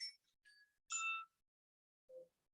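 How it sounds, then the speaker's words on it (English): A phone gives off a few short electronic tones in a quiet room: two faint high beeps, a louder chiming tone, then a softer lower blip after a pause, alone with no talk. "Someone's phone is beeping."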